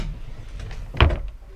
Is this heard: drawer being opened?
yes